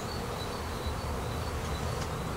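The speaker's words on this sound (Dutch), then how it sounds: "Want deze bijen die kunnen we eraf halen" Honeybees swarming around a straw skep hive make a dense, steady buzzing drone, close and continuous with no voices.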